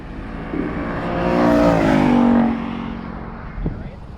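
A Ford Mustang GT race car drives past on the Gingerman track, its engine note swelling to a loud, close peak and then fading as it moves away, with a short knock near the end.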